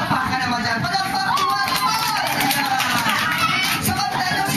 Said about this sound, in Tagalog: Palakpakan naman dyan. Palakpak!